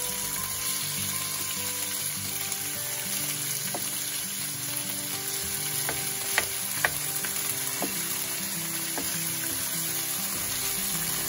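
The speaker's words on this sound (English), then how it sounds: "simply toasting the meat into a hot oil" Pork slices sizzle steadily in hot oil in a pan, a constant crackling fry with a few sharp pops and occasional stirring, no voices.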